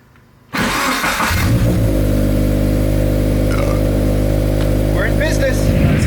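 A turbocharged Scion FR-S running on E85 cranks and fires up abruptly, then settles into a loud, steady idle with light revs, close to the car; a voice speaks briefly over it.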